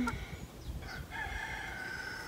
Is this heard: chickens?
yes